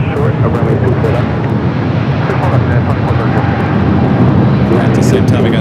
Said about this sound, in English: At the same time, we got Singapore cargo taking off on the south side.